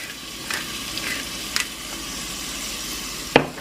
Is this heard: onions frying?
yes